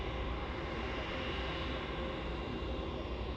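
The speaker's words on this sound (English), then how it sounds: "we've got that Emirates taxiing up towards the end of runway 16" An Emirates airliner taxiing at Melbourne Airport toward the end of runway 16, its engines a steady, broad, distant roar that holds level throughout, with no voices.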